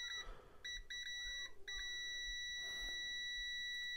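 A digital multimeter's continuity tester sounds a high electronic beep on contact, several short chirps followed by a longer sustained tone, faint and clean with no voices.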